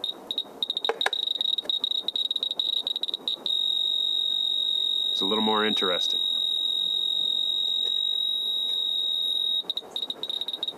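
A radiation detector next to a uranium-bearing rock clicks so fast the ticks merge into a dense, continuous buzzing chatter. A brief spoken phrase cuts in partway through, and scattered clicks come back near the end.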